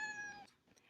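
A roughly two-month-old kitten gives one faint, high meow, followed by brief soft rustling.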